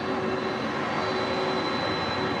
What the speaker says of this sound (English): DHL operated by ABX Air Flight 1820 coming in from Seattle, Washington on a 767-300 freighter.